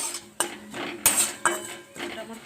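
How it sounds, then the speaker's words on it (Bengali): Metal spoon scraping and clinking against a pan while spices and garam masala are sautéed for a vegetarian atta tiffin snack, a few sharp close clanks spaced over a soft background with no talk. "এইবারে এই সব মশলাটাকে একটু কষিয়ে নেব"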